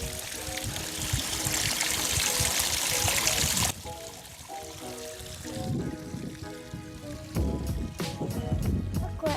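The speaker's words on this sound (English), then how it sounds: "Ooh, look at that waterfall." Waterfall flowing at a goat farm in spring, a steady broadband rush of falling water, loud and continuous at first, then quieter with trickling and splashing while faint voices talk nearby.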